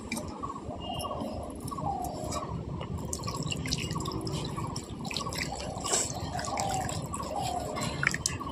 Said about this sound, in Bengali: আবার এতে দিয়ে দেবো এবার পরিমাণ মতন জল।